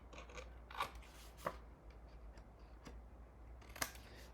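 Scissors cut a miter into pattern paper for a mini album, with a few sharp snips spaced irregularly, close and quiet over a low background hum, with no talk.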